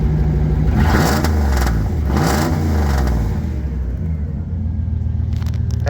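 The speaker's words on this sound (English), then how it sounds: "Now listen to our exhaust." A '98 Dodge Ram 1500 exhaust revs twice in loud, rising and falling surges over a deep idling rumble, then settles back to a steady low idle.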